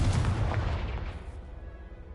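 A Confringo blasting spell explodes in Hogwarts Legacy, a deep rumbling boom heard close that rolls off and fades within a couple of seconds.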